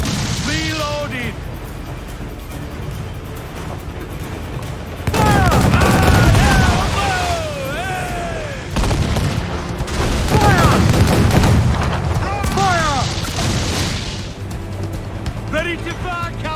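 Ship cannon fire in Assassin's Creed IV Black Flag naval combat: repeated loud booming volleys and bursts over several seconds, mixed with shouted crew commands and busy battle noise.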